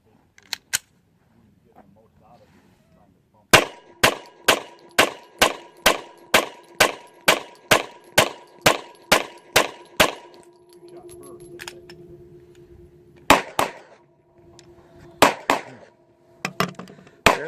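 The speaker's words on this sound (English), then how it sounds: "we're going to run a full magazine of the Tula 180 grain 40 Smith & Wesson through the 10mm and see how it runs" A Springfield XDM 10mm pistol fires Tula 180 grain .40 S&W rounds in a rapid, evenly spaced string of about fifteen sharp cracks, followed after a pause by a few more scattered shots and faint clatter.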